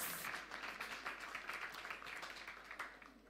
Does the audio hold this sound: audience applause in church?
yes